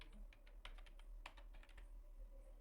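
Typing on a computer keyboard while entering text in MS Word, irregular light clicks of keys in quick bursts, close and quiet over a low hum, no voices.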